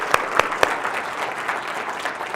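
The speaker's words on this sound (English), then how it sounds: "So let's give him a round of applause, guys" Audience applause at a team-building business meeting, a short burst of clapping from a modest crowd, a few sharp claps standing out at first before it settles into a steady patter.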